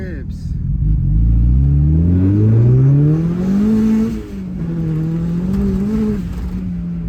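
A turbocharged Mazda Miata accelerates hard, its engine note climbing steadily through the revs before a brief dip at a shift and then settling into a steady drone, loud and close inside the car.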